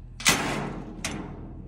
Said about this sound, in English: Have a look at the quality of this door close.